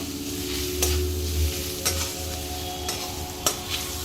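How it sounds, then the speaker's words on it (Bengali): Spices for chicken tehari are stir-fried in a pan under a steady loud sizzle, with a spatula scraping and tapping the pan several times at irregular intervals, heard up close with no talk. "হ্যাঁ দু চামচ দিয়ে দিচ্ছি আবারও ভালো করে একটুখানি কষিয়ে নেব"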